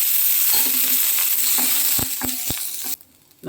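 Garlic frying in hot oil in a pan for pirandai chutney, a steady loud sizzle with a few sharp clinks of a spoon against the pan, then the sizzle drops away near the end.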